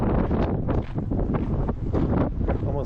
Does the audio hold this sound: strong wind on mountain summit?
yes